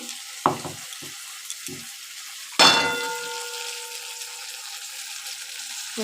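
Masala rinse water splashed into a hot kadai for egg malai curry bursts into a loud sizzle that settles into steady frying, preceded by a few clinks of the jar and utensils.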